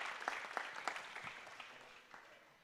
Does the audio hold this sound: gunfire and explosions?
no